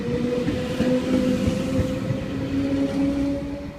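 An NSW TrainLink V-set train departs platform 3 at Wyong, with a steady droning hum and light rumbling rail noise nearby, and no talking.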